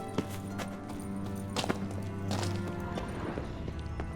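In The Witcher 3: Wild Hunt, steady clip-clop of horse hooves under a droning musical background, with a few sharper knocks scattered through.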